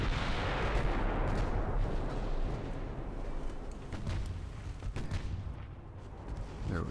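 Warship turrets in the naval game Ultimate Admiral: Dreadnoughts fire heavy booming salvos, with a dense rumbling roar of overlapping gunfire and a few sharper reports standing out, and no speech.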